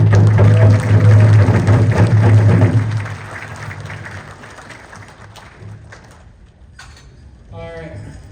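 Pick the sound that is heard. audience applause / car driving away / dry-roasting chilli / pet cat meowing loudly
audience applause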